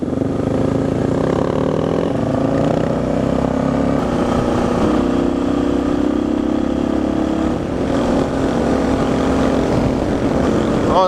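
Motorcycle engine running steadily while the bike is ridden, a continuous loud drone with a slowly shifting pitch as it climbs through the gears.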